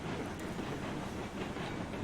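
Steam train rolling along rails in the railway game Railroads Online, a steady continuous rumble with a soft rhythmic clatter of wheels, evenly loud throughout with no voices.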